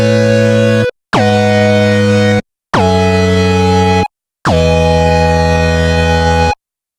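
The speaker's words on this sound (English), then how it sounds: "Add polyunison on a Prophet 10 to get the single oscillator sounding really thick." A Prophet 10 synthesizer with a single-oscillator patch in polyunison sounds four loud, thick, brassy held chords separated by short gaps. The last chord is the longest, and there are no voices.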